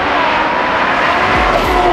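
Twin-turbo Lamborghini Huracan race car heard close in a loud sustained engine roar during a quick drive-by, with the pitch shifting near the end as it passes.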